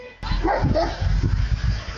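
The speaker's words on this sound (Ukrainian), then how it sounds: "Собаку породи бігель залишають посеред вулиці." A beagle barks out in a street, giving a close, loud burst of yelping barks and whimpers that starts abruptly and continues briefly with some background noise.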